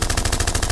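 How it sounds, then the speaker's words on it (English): A loud, close burst of rapid automatic gunfire, a gunshot sound effect with about ten shots in quick even succession. "Gunshot for Doc"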